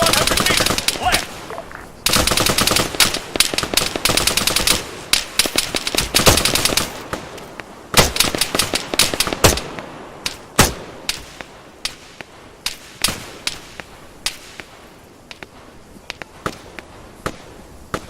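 Gunfire in the Arma 3 combat game: bursts of rapid shots and single cracks, loud and close at first, then thinning to scattered sharp reports over a continuous background din.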